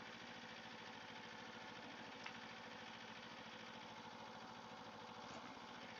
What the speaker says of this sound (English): The bike idle's perfect.